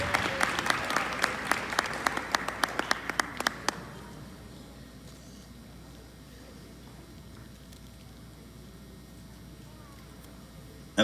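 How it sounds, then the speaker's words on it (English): Applause for a school award recipient at a middle school Black History program, with claps fading out over the first four seconds, followed by quiet room tone. "Let's give her a round of applause as well."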